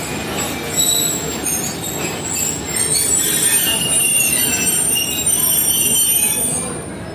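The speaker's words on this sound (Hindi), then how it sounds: "146 डाउन सक्खर एक्सप्रेस आ चुकी है प्लेटफॉर्म नंबर 2 पर" The Sukkur Express of Pakistan Railways pulls into a station platform, its wheels squealing in sustained high metallic tones over a rumbling rolling noise, loud and close, with faint voices beneath.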